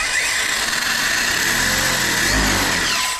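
An Arrma Dirt Rat RC car with a wheelie bar revs its electric motor with a loud, close, continuous whine that rises in pitch under acceleration, with no talking.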